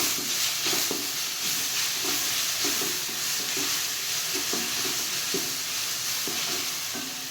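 Tomatoes for egg tomato rice fry and sizzle in a pan while a spoon stirs them, giving a continuous close hiss broken by regular scraping strokes.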